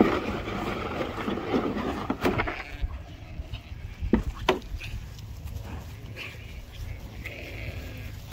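Sheep bleating as a flock comes into a farm paddock, a few scattered calls over steady outdoor background noise, with cows nearby.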